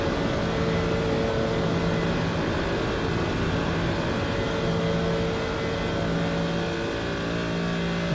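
GT3 race car engine at the Nürburgring in a racing video game, a dense, loud, steady drone holding near-constant revs throughout, with no talk.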